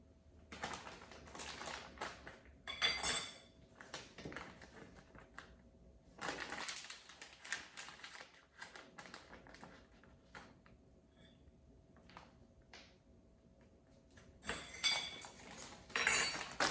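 Tablespoon and teaspoon clink and rattle into a small container during kitchen meal prep, in quiet scattered bursts of light metallic taps and jingles with pauses between.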